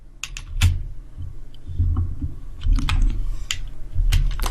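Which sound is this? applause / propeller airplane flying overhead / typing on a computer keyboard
typing on a computer keyboard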